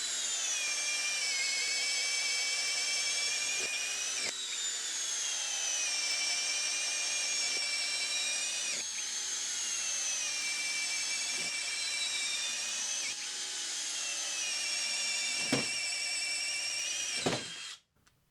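A compact DCK 12-volt brushless cordless drill bores 1/2-inch spade bits through walnut, giving a steady high whine that runs almost continuously with a few brief dips and a sharp cutoff at the end.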